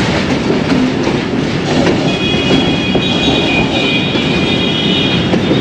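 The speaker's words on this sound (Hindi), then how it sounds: "उसका जो सुराख होता है उसमें से ये आवाज़ें आ रही हैं लाइन चेंज होने की।" Ravi Express passenger coaches rattle and clatter loudly over line-change points on a main line in Pakistan, a dense continuous rumble with faint wheel squeal, heard from inside the train.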